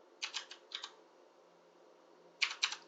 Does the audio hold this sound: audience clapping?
no